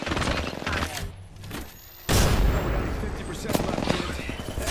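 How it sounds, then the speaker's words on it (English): Gunfire in the video game Apex Legends, with a loud dense volley of shots and bursts that dips briefly and then surges back with heavier blasts, all close and continuous. "They're hitting me. Firing."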